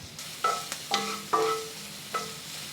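Shallots frying in neutral oil in a pan, sizzling steadily while a utensil scrapes and clinks against the pan in a few sharp, ringing strikes, close and clear with no talk.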